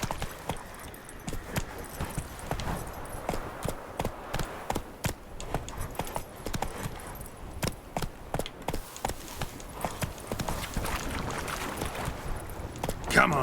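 Hooves of Roach, the horse in The Witcher 3: Hearts of Stone, thud in a steady, rapid rhythm over game sounds, with a person talking at times.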